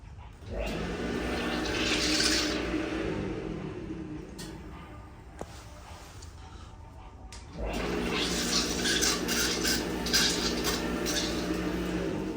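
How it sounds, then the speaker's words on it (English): A self-cleaning public city restroom's vacuum toilet flushes in two loud bursts, a sharp rushing suction with clattering and water sounds that fades in between before a second strong surge. "It's like a vacuum toilet."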